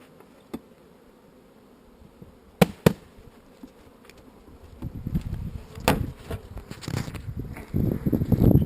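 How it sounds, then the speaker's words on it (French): Honeybees buzz around an open hive during an early-April inspection of a strong, fast-growing colony, a low droning swarm that rises and grows louder toward the end, broken by a few sharp clicks and handling knocks, with no talking. "on va faire un point sur la ruche qui est en fort développement pour voir vraiment où elle en est"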